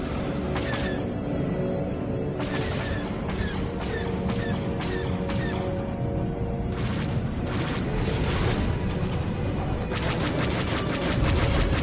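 A gunship's laser cannons fire in the space combat game Galactic Star Fighter, with sharp repeated blasts and booming explosions layered over a dense, loud, continuous battle roar.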